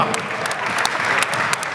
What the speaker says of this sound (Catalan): Aplaudeix al públic, Odín